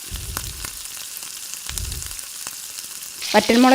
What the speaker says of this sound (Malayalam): അതൊന്ന് കടുക് താളിച്ചെടുക്കാം